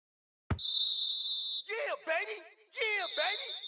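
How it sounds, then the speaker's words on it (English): A referee's whistle at an American football game between the Vikings and Packers, one sharp sustained blast, followed by a commentator talking over it. "Now whistles come in."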